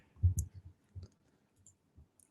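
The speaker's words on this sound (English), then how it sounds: "That keyboard is loud." Loud computer keyboard keys clicking in a few short bursts, close to the mic and heard alone with no talking.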